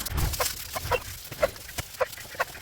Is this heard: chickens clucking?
yes